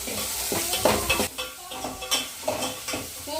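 A spoon stirs curd into hot tempering in a pan, giving repeated scraping strokes over a steady sizzle, close and fairly loud.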